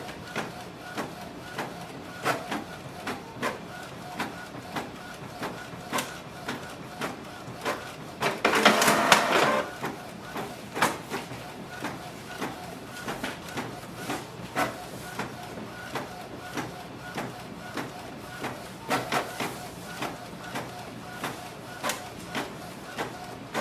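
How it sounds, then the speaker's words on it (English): A Canon Pixma G4570 inkjet printer works through a page with a steady hum and rhythmic mechanical clicks. A louder whirring burst comes partway through, and the sound is moderate and close. "We just completed the printing."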